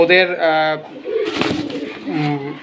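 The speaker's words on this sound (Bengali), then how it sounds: "আর এটা হচ্ছে আমার বাসার কবুতর, মাশাল্লাহ দেখেন।" Domestic pigeons kept at home coo close by in short bursts, with a voice speaking between the calls.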